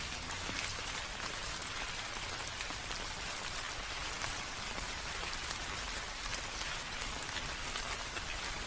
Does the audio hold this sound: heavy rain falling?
yes